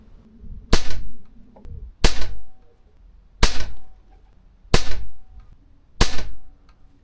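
Five sharp, loud air rifle shots with heavy pellets, fired from a Brazilian RTX rifle at an outdoor range, spaced about every 1.3 seconds. Each crack is followed by a short ringing tail, with no voices.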